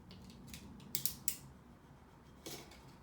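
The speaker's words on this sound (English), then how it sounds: "use a sharp craft knife, cut in from the edge" A sharp craft knife trims a path roller sleeve, giving a few quiet, crisp slicing snips close by, three in quick succession and then one more after a pause, over a soft background hum.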